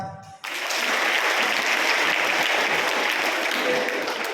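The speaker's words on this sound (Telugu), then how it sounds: "క్లాప్స్." Classroom applause bursts out after a brief quiet start and holds steady as a dense, even clatter of many hands clapping together until the end.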